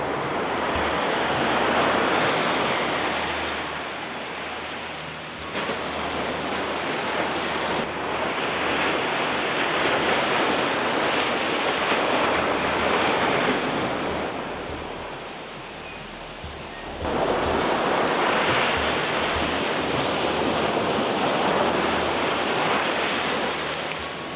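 Waves break on a beach in Bali as a continuous wash of surf that swells and eases in long surges, moderately loud with no other sounds.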